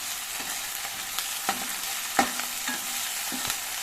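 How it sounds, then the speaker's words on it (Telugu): Garlic paste is stirred into onions frying for a tomato curry, a constant sizzle broken by several sharp scrapes and knocks of a spoon against the pan, close and without talk. "ఇప్పుడు వెల్లుల్లి పేస్ట్ వేయాలండి కొద్దిగా"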